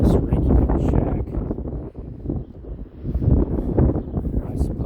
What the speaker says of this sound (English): I suppose that'd be okay if it didn't get this windy